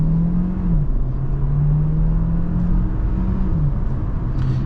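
A 2023 Kia Sportage Hybrid accelerates from inside the cabin, a steady loud drone and tonal hum rising and shifting in pitch as the engine joins the electric motor, with no talking.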